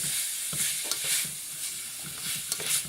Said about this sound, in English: I'm going to stir those together